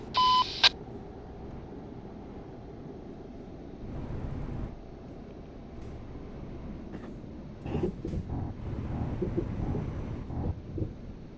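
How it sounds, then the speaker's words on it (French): A mobile phone sounds in a vehicle driving in a road convoy: a brief, loud electronic tone right at the start, then only the low rumble of the moving car and scattered knocks. "C'est quoi là qui a sonné? C'est moi, mon téléphone"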